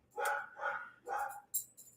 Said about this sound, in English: I've got a 10-month-old Labradoodle here that is just giant